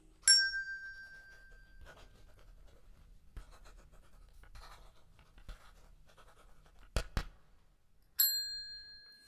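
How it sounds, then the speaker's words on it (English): A quiz team's answer bell dings sharply at the start and rings again near the end, with quiet pen scratches of writing in between. "Team A has pressed their bell."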